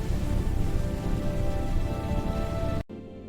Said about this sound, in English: In the Sahara, the first rain in decades falls on tortoise release zones.